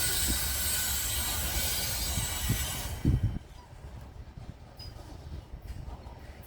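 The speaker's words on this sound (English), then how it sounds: "we have another train coming" A fast CPKC freight train rushes past close by with loud broadband roar and rumbling wheel clatter, then cuts off abruptly after about three seconds, leaving quieter ambient rumble.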